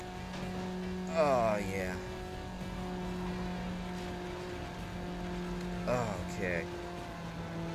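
In the racing game Need for Speed: Underground, two cars streak past a steady engine drone with a quick rising-then-falling whoosh, one around a second in and another near six seconds, while a player talks.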